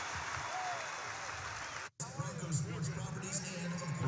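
Arena crowd at ExtraMile Arena during a Boise State basketball game, applauding and buzzing steadily with a murmur of voices; there is a brief dropout near the two-second mark, and then the clapping and chatter resume.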